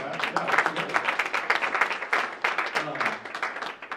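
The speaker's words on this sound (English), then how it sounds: "So again, you can clap it up for that." Audience at a luncheon claps steadily, a close, rhythmic patter of many hands with slight swells, lasting the whole stretch with a voice or two faintly mixed in.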